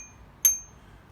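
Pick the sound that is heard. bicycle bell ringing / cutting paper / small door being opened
bicycle bell ringing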